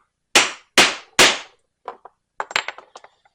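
Three sharp, loud hammer strikes ring out setting a rivet into a leather backpacking strap, followed by a run of lighter, quicker taps and small knocks as the rivet seats snugly.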